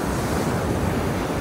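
Ocean waves roll in on a beach in Pangasinan, a steady loud wash of surf with wind rumble across the mic, continuous and without talk.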